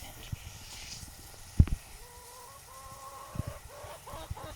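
Chickens cluck in soft, repeated bursts nearby at a coop with an automatic door, with a few dull thumps and knocks mixed in over low background noise.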